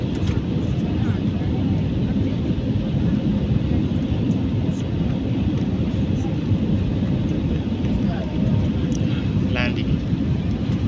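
Airliner landing at Mumbai, India, with a steady loud roar of engine and airflow noise throughout, heard from inside the cabin.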